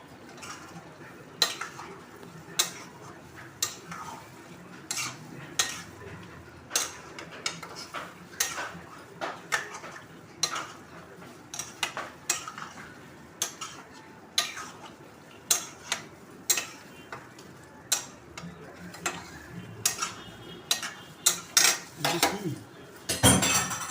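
Rice stir-fried with spices in a pot for chingri maacher pulao, a steady run of metal spatula scrapes and clinks against the pot over a faint background sizzle, fairly quiet and close, with no talking.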